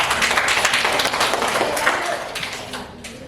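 A classroom of students claps hands together in a steady, dense burst of applause that fades toward the end, with faint voices mixed in.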